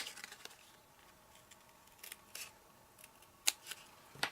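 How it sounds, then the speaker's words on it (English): Scissors snipping paper while building a Halloween Dracula coffin papercraft, heard as a few faint, sharp snips scattered over a quiet room background, the clearest cuts near the end. "let's snip that off."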